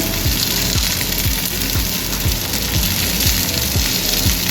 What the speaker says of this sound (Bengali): এটা পুঁই শাকের তরকারি ভাজা হোক, ভাজা হতে হতে আমি একটু হলুদ দেবো